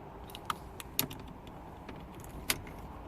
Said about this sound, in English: when we turn the ignition on, and I'm going to do it